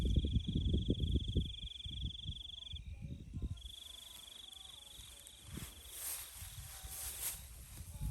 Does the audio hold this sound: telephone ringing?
no